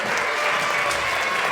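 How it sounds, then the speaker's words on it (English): An audience at a school awards assembly applauds first grade performers, giving a steady, full round of clapping from a crowd that holds evenly from start to finish. "One more round of applause for our first grade performers."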